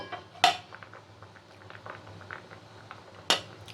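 A spoon scrapes and clinks against a pot while lifting steamed spiny gourds out, two sharp metallic knocks standing out over soft, scattered clatter, with no voices.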